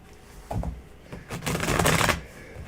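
Tarot cards are shuffled nearby in two bursts, a brief riffle followed by a longer, louder papery flutter that fades out.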